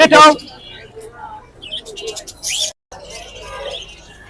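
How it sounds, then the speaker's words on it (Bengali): A lory parrot gives a few short, sharp shrieks and chirps up close, scattered between stretches of people talking nearby. "অনেক সুন্দর একটা লরি পাখি"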